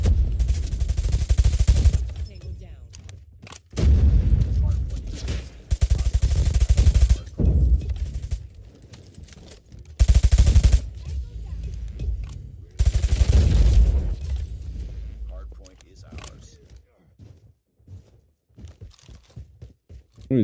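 Repeated bursts of loud gunfire from Call of Duty Mobile, each several seconds long and separated by brief pauses. Fainter shots follow near the end.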